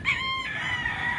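On a Philippine farm, a rooster crows close by, its call clear and drawn out over quieter background clucking from chickens.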